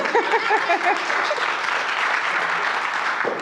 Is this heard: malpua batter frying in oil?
no